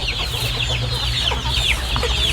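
Free-range village chickens cluck and chatter in a continuous close flock, with a steady low hum running beneath and no talking.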